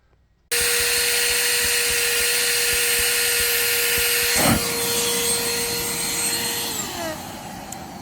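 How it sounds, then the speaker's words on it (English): An electric air pump with a small 50,000 RPM motor switches on abruptly and inflates an Aerogogo Aerease air bed with a steady, loud whine that drops slightly in pitch near the end. "And that's how we pump it up, and see how to do that in one click."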